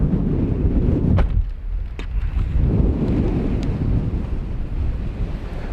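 Strong wind buffets the microphone on a hillside slope where an RC plane is being flown, loud gusty rumbles swelling and easing with a few sharp crackles.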